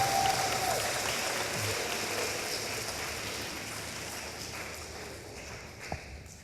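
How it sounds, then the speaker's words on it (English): Applause from an audience at a school ribbon-cutting ceremony greets the superintendent, a steady wash of clapping that carries on for several seconds and fades slowly, at a moderate distance. "that is the big round of applause"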